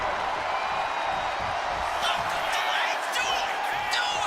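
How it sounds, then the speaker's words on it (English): Arena crowd noise from a WWE 2K25 wrestling match, a steady roar of cheers with a few whoops rising over it as a wrestler plays to the fans, with commentary running beneath. "And Lola Vice looking for support from the crowd."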